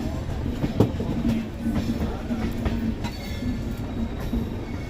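Golconda Express pulling out of Dornakal junction, a steady low rumble of rolling rail wagons with faint wheel clicks and squeal tones, continuous and moderately near, with no speech.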